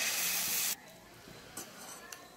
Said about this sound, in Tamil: அதை நம்ம கலந்து வச்ச மாவை தோசையாக வறுத்தரலாம்